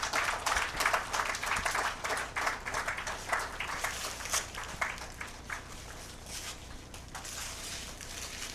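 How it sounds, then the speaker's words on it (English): An audience at a technology conference claps for guests on stage, sustained applause that is strong at first and then gradually thins and fades over several seconds. "A huge round of applause"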